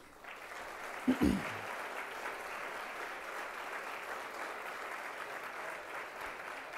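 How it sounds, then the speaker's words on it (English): Applause for valedictorians at a school lunch ceremony, a steady moderate clapping from a room of people, with a brief louder knock or voice near the start. "one more round of applause for the whole class, the valedictorians of the class of 2017"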